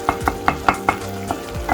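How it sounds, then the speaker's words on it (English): Soft cooked onions are mashed with a wooden spoon in a pan for a Bengali chicken thigh curry, giving a steady run of about eight soft, close, regular scrapes and squishes over a low sizzle, with no talking. "so I'm gonna mash them up a bit slightly"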